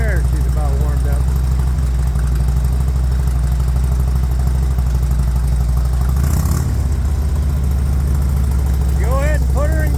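A motorcycle engine idles steadily while it warms up, a close, low, even rumble that runs throughout, with voices talking over it now and then.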